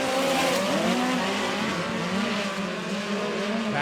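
Midget race cars roaring around the dirt oval at Lake Ozark Speedway, a dense, loud, continuous engine drone with shifting revving tones as several cars pass, filling the whole stretch without pause.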